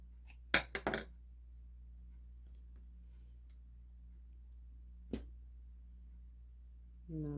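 Scissors snip yarn away from a knitted fingerless glove made on a Sentro 40-pin knitting machine. A quick cluster of close, sharp clicks comes first, then a single snip follows later in a quiet room.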